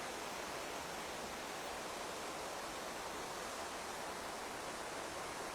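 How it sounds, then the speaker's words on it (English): Steady rushing water flows below the path at Randolph's Leap, a dense, even wash of sound with no pauses and no voices. "And the water below as we head down."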